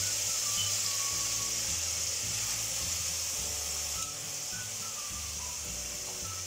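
Chicken fillet frying in a pan over a medium flame, a steady even sizzle and hiss that runs unbroken throughout at moderate level, with faint low hum beneath.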